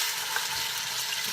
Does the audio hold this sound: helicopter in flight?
no